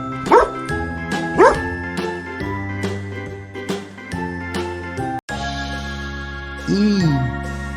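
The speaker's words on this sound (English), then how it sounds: "Nice dog." A dog gives two sharp barks early on, about a second apart, over a tinkling children's tune that plays on after a brief break.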